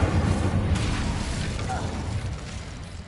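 Incendio fire spell in Hogwarts Legacy, a loud rumbling burst with a roaring, crackling low body that slowly fades over a few seconds, with a voice speaking over it.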